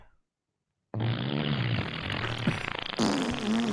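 Comedic fart sound effects play back loud and close after a moment of silence, a sustained blatty burst with a few sharper pops and a brighter squeaky tail near the end.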